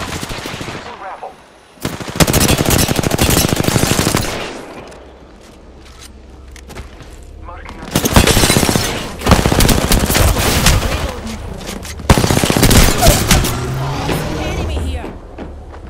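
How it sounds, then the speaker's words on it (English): Loud, close machine-gun fire in a video game firefight with the player being shot, coming in several long sustained bursts separated by quieter gaps, with occasional voice lines between. "Being shot."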